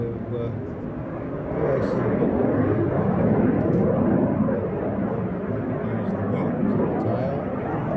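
Powered aircraft flying at the Midlands Air Festival, a broad steady engine roar that swells slightly and holds, with someone talking over it throughout.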